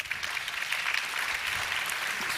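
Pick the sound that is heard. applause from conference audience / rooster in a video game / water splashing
applause from conference audience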